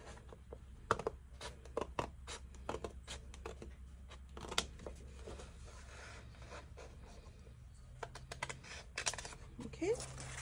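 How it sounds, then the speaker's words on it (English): Scissors snip through paper while a junk journal cover is cut by hand, giving a series of close, crisp cuts and rustles with irregular rhythm over a quiet background. "it's just easier to cut it with scissors"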